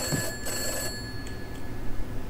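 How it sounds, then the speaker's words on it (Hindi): In the horror video game Summer of '58, an old telephone rings with bright metallic bell bursts, two clear rings followed by fainter echoes against a low ambient hum. "भाई ये आवाज़ क्यों हो रहा है ये फ़ोन का"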